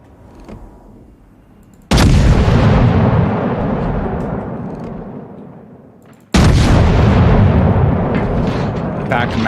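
Heavy naval guns firing in the World of Warships video game, two massive broadside blasts a few seconds apart, each a loud sudden boom rolling into a long decaying rumble that fills the mix.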